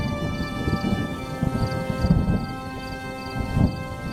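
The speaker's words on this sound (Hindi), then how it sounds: "तेज बारिश और गरजती बिजली के बीच तीनों शैतानी हंसी हंसते हुए वहां से चले गए।" Heavy rain pours steadily with low rumbling thunder rolling beneath it, swelling in a couple of louder surges, close and fairly loud with no voices.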